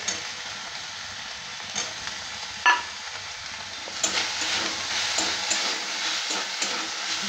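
Soaked, chopped soybean chunks being sautéed in a pan for a panchmisali vegetable dish, producing a continuous sizzle with occasional stirring knocks that grows a bit louder partway through.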